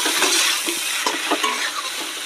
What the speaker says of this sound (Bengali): জিরে আর একটু আদা ভালো করে আমি এবার মশলাটাকে কষিয়ে নেব